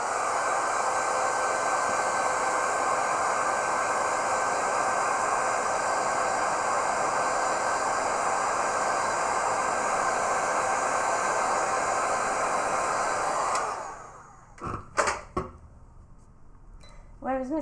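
A hair dryer blows steadily and loudly across a loose watercolour Christmas roses painting for about thirteen seconds, then cuts off, leaving brief taps and faint talk.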